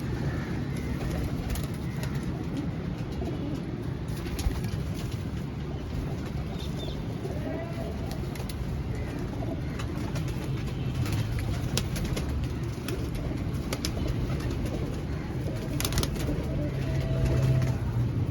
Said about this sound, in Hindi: ये हमारे पैंथर कबूतर है